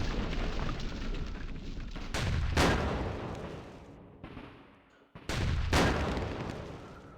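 Artillery fire in the WWII wargame Campaign Series Rising Sun: two heavy, sharp booms several seconds apart, each followed by a long rolling decay, over a background rumble of battle.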